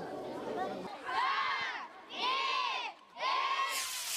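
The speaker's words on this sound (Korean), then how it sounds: "조용하던 공장이 또다시 순식간에 아이들의 환호 소리로 가득 울려 퍼진다." Children cheer in three loud bursts of high shouting at a rocket launch activity held at a factory, each burst rising and breaking off with short pauses between.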